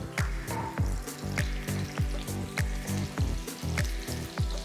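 Round red chilies and cinnamon dry-roasting in a pan over medium flame, a steady crackling sizzle broken by regular rhythmic scrapes and taps of a utensil, close and fairly loud.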